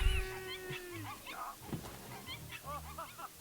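Faint high-pitched whimpers and yips from young dogs, scattered and overlapping, with a low rumble and some indistinct voices underneath.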